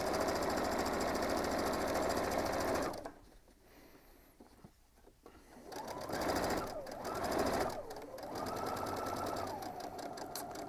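Sewing machine stitching the seams of a tote bag, a steady, close mechanical whir that drops off while the needle is lowered for a pivot and then starts up again in short runs.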